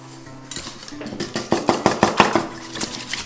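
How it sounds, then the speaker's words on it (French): Eggs freshly cracked into a bowl are stirred for a lemon meringue tart, a utensil clicking against the bowl in a quick run of close, sharp taps that speeds up after a quiet start. "je vais remuer dans mes œufs que je viens de casser"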